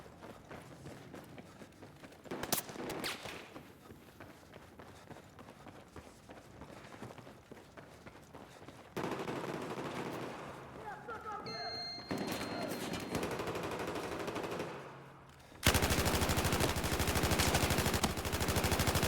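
Light machine gun fire in the Battlefield multiplayer shooter, loud sustained bursts and rapid gunfire crowding a busy battlefield mix with other game sounds.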